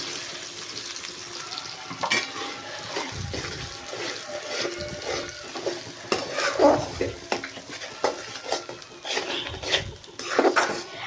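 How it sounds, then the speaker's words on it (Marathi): Masala being sautéed in oil for dum aloo, with a spoon scraping and stirring through the pan in irregular strokes over a steady background of frying. "मसाला आपण चांगलं तेल सुटीस तर परतून घेणार आहोत"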